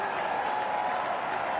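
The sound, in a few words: applause for India's unbeaten opening partnership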